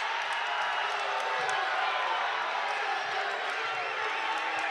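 Crowd at a men's college basketball game, Georgia College at Young Harris, keeps up a steady roar of cheering through the whole moment, with a commentator talking over it.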